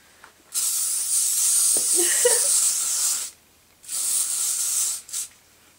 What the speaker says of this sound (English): And give it a good spray.